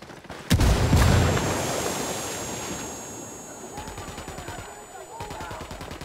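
Heavy gunfire in Ghost Recon Wildlands during a factory raid: a loud burst opens, then rapid automatic fire rattles on over a rumbling background.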